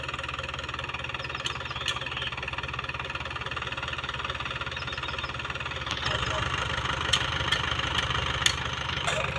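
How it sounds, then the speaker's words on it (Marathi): A Mahindra Jivo 245 small tractor engine runs steadily with a low rumbling, slightly knocking drone that grows a bit louder partway through, with faint voices in the background. "इकडे आलेला आहे महिंद्रा जिओ 245 छोटा ट्रॅक्टर"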